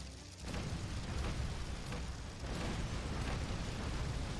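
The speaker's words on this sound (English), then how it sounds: "I'm just gonna drop big explosions near the big jumping spiders and hope for the best." Continuous booming explosions rumble near giant jumping spiders in the video game Earth Defense Force: Iron Rain, a dense, loud, sustained roar of blasts with brief surges and no pauses.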